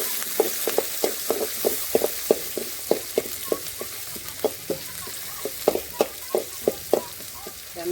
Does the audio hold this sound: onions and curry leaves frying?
yes